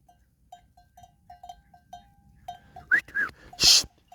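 Sheep from a village flock bleat a few times at close range, loud and wavering, over a quiet background of soft repeated chiming tones.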